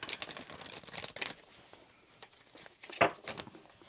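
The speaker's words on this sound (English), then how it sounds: "Let me shuffle. I'm being told to shuffle." Tarot cards being shuffled by hand, heard as quick, close riffling and flicking bursts, a pause, then a louder slap and more soft card handling, with no voice.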